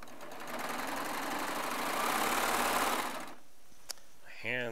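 A Baby Lock serger stitches 2.5-inch charm square strips with a fast, steady mechanical whir for about three seconds, then stops. A single click follows and a voice briefly begins speaking.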